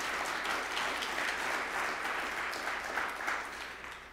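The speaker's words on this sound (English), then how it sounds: "I kind of want to do another round of applause for that." Conference audience applauding at an opening kickoff session, a steady, fairly distant wash of clapping that holds for about four seconds and tapers slightly at the end.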